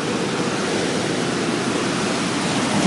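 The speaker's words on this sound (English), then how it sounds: "The water is still pouring in here." Hurricane Sandy floodwater pours into a knee-deep flooded backyard on Long Island, New York, in 2012. A steady, dense rush of water like a waterfall is heard close by, alone.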